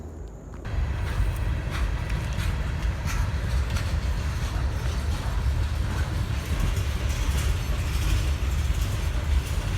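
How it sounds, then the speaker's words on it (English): A train passes on an old railroad line. Its loud, steady rumble and rolling clatter start abruptly and fill the whole stretch, heard alone without talk. "I think a train might be coming"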